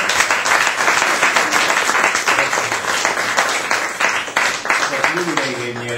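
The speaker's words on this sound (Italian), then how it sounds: "Benissimo, facciamo un applauso." An audience claps loudly and steadily for several seconds, dense crowd applause close by; near the end a voice starts speaking over the fading clapping.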